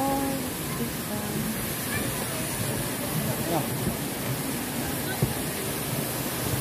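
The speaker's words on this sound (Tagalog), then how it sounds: "Dito kami sa waterfall." Steady broadband rush of Shifen Waterfall in New Taipei City, a constant roar heard at some distance, with tourists chatting and other crowd voices mixed over the water noise throughout.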